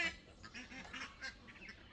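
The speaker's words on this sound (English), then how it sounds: "there's my goose" A pet goose in a backyard garden honking several times in quick succession, harsh nasal calls close by, with ducks kept nearby.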